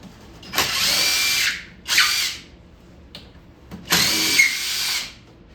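A power drill unscrews screws from a 2008 Golden Tee arcade cabinet in three close, loud high-pitched whirring bursts of about a second each, with a tiny click between the second and third, and no talk.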